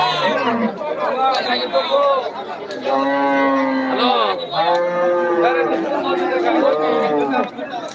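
Cows moo repeatedly at a busy rural cattle market in Deohata, with several long, drawn-out calls overlapping one another close by while a crowd chatters in the background.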